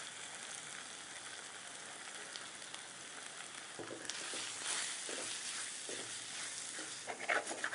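Grated bottle gourd frying in oil makes a soft, continuous sizzle that grows a little louder and busier partway through, with scattered crackles and pops toward the end.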